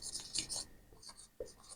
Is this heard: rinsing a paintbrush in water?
no